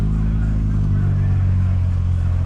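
Hot-wired VW Golf 3 Variant wagon with its engine idling close by, a steady low rumble with no talking.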